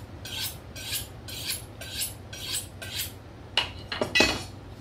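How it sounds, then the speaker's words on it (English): A kitchen knife slicing through an onion on a cutting board, a steady series of about six rasping strokes followed by a few quicker cuts and a light clink, close and fairly quiet with no talking. "It wouldn't even cut that onion peel."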